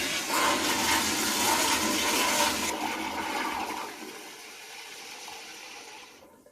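A toilet flushes loudly after an angle stop valve repair, with a steady rushing gush that gradually fades as the tank refills. No voices are heard.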